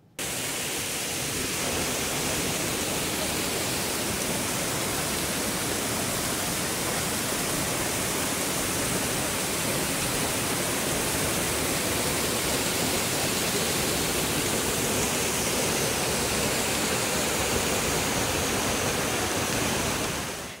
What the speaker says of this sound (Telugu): విక్టోరియాలోని biggest and most spectacular water falls.